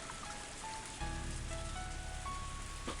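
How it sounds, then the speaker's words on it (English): Steady rain falls and patters on surfaces as ambience in the Higurashi visual novel, a continuous hiss that thickens after the first second, with soft sustained tones of background music over it. "As the rain came down on me"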